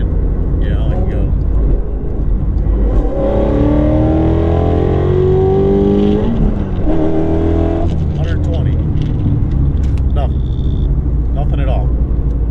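A Ford Mustang GT350 accelerates hard from about 50 to 120, its engine note climbing loudly in rising sweeps and then dropping back to a heavy drone, heard from inside the car with a voice talking over it.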